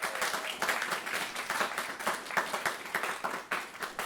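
Audience applause for an intern at an internship final celebration, a brief burst of clapping from a modest crowd, moderately distant and steady for a few seconds.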